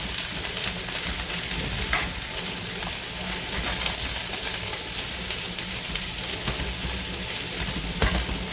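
Vegetables including broccoli stir-fried for veggie lo mein, a steady loud sizzle and crackle in a hot pan, with occasional scraping stirs and no talking.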